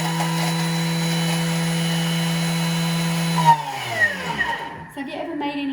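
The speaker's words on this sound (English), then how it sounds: "So I'll just chop up my garlic first." A Thermomix chops garlic cloves with a loud, steady motor whir for several seconds. The motor then winds down, leaving lighter rattling and tumbling sounds from the bowl.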